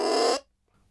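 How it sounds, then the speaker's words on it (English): A contrabassoon double reed blown on its own, off the instrument, gives a short, loud, buzzy squawk that cuts off sharply and leaves silence. "On its own, the reed sounds like this."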